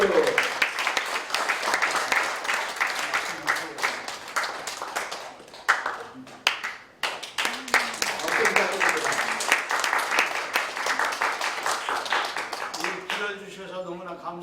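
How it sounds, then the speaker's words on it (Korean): A church congregation at a founding thanksgiving service claps during an award presentation, bursts of applause mixed with continuous talk from a presenter over a microphone. "자, 연합회를 수여하실 때 큰 박수를 부탁드립니다."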